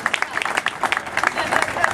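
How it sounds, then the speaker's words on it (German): An audience at a local association event applauds, brief dense crowd clapping with a murmur of voices mixed in. "Schon allein das verdient einen Applaus"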